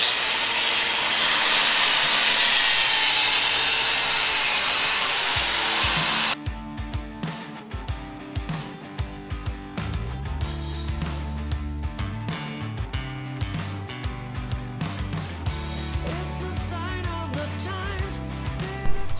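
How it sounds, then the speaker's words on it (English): An angle grinder strips scale from a Ford 8.8 axle housing, first a steady loud roaring hiss, then a choppier run of rhythmic grinding bursts and catches up close. "We're going to get to grinding this thing"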